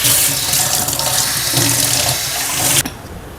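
Water poured into a pan of coconut curry, a steady splashing pour that runs loud and continuous for about three seconds, then cuts off abruptly.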